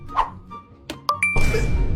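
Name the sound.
mobile phone ringing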